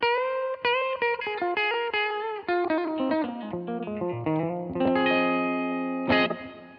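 Guitar notes run down and bend through a Headrush pitch-shifting effect, their tones doubled and slightly wavering with a chorus shimmer, ending in a sustained chord.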